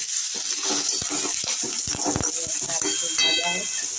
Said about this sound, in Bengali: পেঁয়াজটা একটু ভাজা হচ্ছে। এর মধ্যে আমি কটা কারি পাতা দিয়ে দেবো।